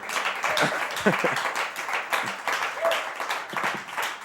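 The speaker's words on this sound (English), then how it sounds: "give me one more round of applause" Applause and clapping from an audience at a spoken-word poetry performance, uneven bursts of claps with cheering and voices mixed in throughout.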